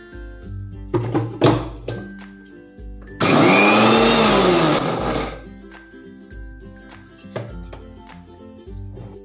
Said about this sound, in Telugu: ఇప్పుడు ఇలా తీసుకున్న అలసందల్ని గ్రైండ్ చేసుకుందాం.